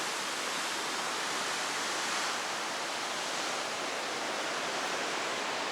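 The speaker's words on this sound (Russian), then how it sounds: "Волны серьезные." Heavy ocean surf at Kelingking Beach on Nusa Penida, a continuous broadband roar with no distinct breaks between waves, steady and fairly loud throughout.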